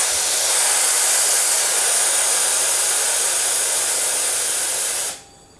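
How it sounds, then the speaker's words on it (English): A small air compressor running: a steady, loud hiss of rushing air runs unbroken for several seconds, then cuts off abruptly, leaving near silence. "It's a very small compressor, and you hear it"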